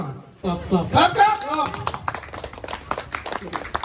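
An audience at an Onam celebration breaks into quick, scattered clapping that runs under loud talking, close and lively, with sharp claps continuing to the end.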